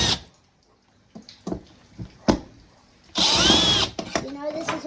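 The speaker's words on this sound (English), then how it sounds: "Can you get them with that drill bit? Maybe if you push really hard." A power drill bores into a newer flat TV being taken apart, heard in short separate bursts and then a longer, louder whirring grind, with quiet pauses between.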